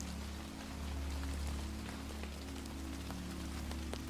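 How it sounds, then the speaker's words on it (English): Steady rain falls on a cabin, making a dense, even patter with scattered sharper drops over a low constant rumble. "the rain settles into a rhythm that fills the cabin with a sound so familiar and so comforting"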